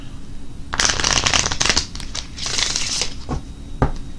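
A deck of premium card stock reading cards is shuffled up close, with loud riffling bursts, crisp flutters and a final sharp snap of the cards.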